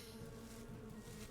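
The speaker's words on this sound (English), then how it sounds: "Morgan, that's not chanting. That's buzzing, silly." An insect buzzes in the horror video game Sucker for Love, a faint, steady, droning hum that holds without pause.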